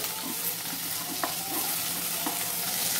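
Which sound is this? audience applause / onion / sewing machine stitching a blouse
onion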